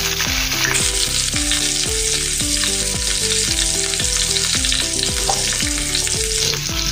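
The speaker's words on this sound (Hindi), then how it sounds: "तेल अच्छे से गर्म हो गया है। अभी इसमें हम राई डालेंगे आधा चम्मच और जीरा डाल देंगे आधा चम्मच।" Mustard seeds, cumin and finely chopped green chillies sizzle in hot oil for a dhaba-style sev tamatar sabzi. A steady, close crackling hiss runs throughout beneath prominent melodic background music.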